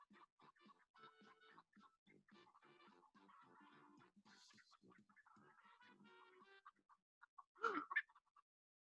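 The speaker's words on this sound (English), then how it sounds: "Chickens?" Chickens in a yard cluck softly over and over in a busy, uneven patter, with a louder squawk near the end. The sound is fairly quiet and there is no talk.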